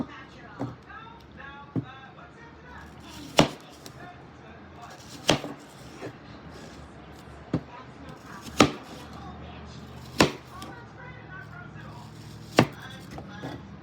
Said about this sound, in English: And then all you do is cut them into slices.